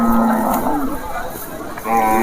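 Bulls at a busy cattle market low in drawn-out moos, one at the start and another near the end, over a crowded background of market chatter.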